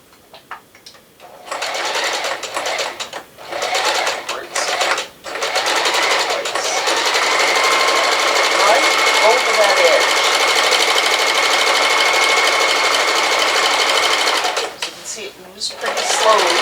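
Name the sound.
sewing machine sewing a straight stitch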